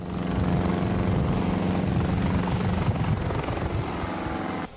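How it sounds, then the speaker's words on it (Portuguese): A helicopter thrums steadily and loudly throughout, its rotor throb constant, cutting off abruptly at the end. "O helicóptero da PM deu apoio à operação."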